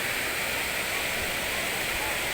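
Hinulugang Taktak waterfall in Antipolo City pours with a steady, close, broadband roar of falling water, unbroken and even throughout.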